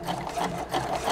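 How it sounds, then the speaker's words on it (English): A sewing machine stitches an elastic headband strap, a close, steady mechanical whir with a fast even rhythm of needle strokes, no voices over it. "the first thing that I sewed was the little elastic strap for the back of one of the headbands"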